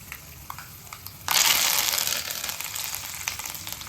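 Curry leaves dropped into hot oil while frying mandakki (puffed rice): a sudden loud burst of sizzling and crackling that eases into a steady hiss.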